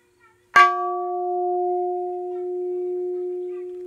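A metal alloy piece is struck once and rings like a bell, a crisp strike followed by a pure, steady tone that sustains without fading for several seconds, heard close and alone.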